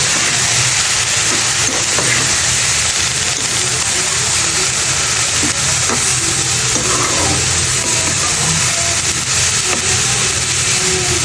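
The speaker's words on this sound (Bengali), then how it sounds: "এবার নিচ থেকে ভালো করে নাড়িয়ে দিব।" Red amaranth greens with shrimp being stirred in a frying pan, a constant loud sizzle underneath occasional scraping strokes of the spatula.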